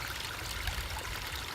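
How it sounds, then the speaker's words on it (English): Water pours steadily into a bottle from a fountain-like outdoor source, a continuous close hissing splash with no breaks and no voices. "This is actually kind of like a water fountain. It's kind of pushing out, so it's kind of spilling out."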